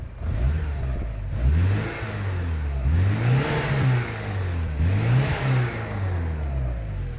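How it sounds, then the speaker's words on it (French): A car engine is revved two or three times, rising and falling in clear swells over a steady idle, close and loud, with no talk over it. "On met un ou deux coups de gaz"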